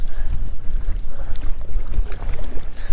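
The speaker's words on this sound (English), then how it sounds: "I'm sure you can hear the wind wisping past the microphone" Wind buffets the microphone on a winter bass-fishing trip from a small boat, a steady low rumble with gusts swelling and easing throughout, no talking heard.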